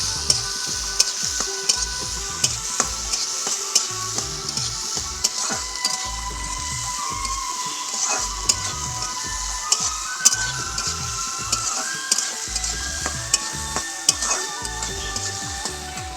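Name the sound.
chopped tomato and onion frying and stirred for poha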